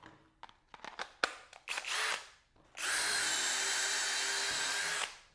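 A Skil 12V compact homeowner drill with a small 2 amp hour battery, pushed hard, whirs in several short bursts, then runs steadily and loudly for about two seconds before stopping.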